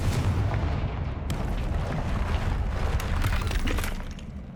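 A Confringo spell blast in Hogwarts Legacy: a loud fiery explosive burst followed by sustained crackling, rumbling debris and a fading roar.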